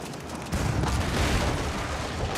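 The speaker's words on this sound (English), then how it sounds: "Cannons engaging the keep" Cannons firing at a fully upgraded keep in Age of Empires 4, a dense burst of booming blasts and impacts that swells after a quieter opening and rumbles on continuously.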